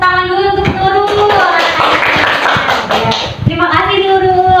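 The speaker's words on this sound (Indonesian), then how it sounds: "Ayo kita beri tepuk tangan dulu untuk Nurul" Pupils in a classroom burst into a couple of seconds of dense, loud clapping for a classmate, with a voice heard just before and after the applause.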